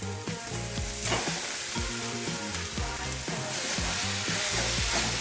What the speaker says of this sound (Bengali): এবার মাছ দিয়ে মশলার সাথে খুব ভালো করে কষিয়ে নেব।